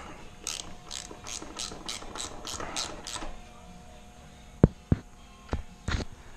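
A ratchet clicks in a quick, even run of about ten strokes as bolts with rubber grommets are tightened on a Victory Cross Country motorcycle fuel tank, then a few separate sharp metallic knocks follow.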